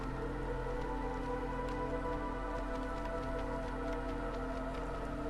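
Steady rain falls in the video game Against the Storm, a soft, even patter of drops on surfaces with scattered light ticks over a constant low hum, running without pause and with no voices.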